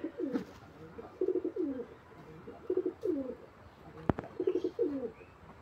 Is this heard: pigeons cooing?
yes